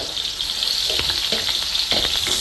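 Beef frying in hot oil gives a steady, close hiss, with repeated short scraping knocks as the meat is turned in the pan.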